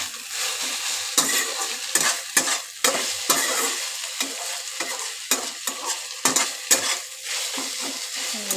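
Jute leaves with turmeric fry in a pan, with a soft steady sizzle under repeated scraping strokes of a spatula or spoon stirring against the metal, close and fairly quiet.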